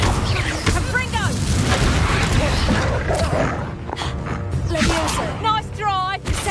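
Booming explosive impacts from the Confringo spell in Hogwarts Legacy thump loudly through a busy combat scene, layered with whooshing spell effects and shouted incantations.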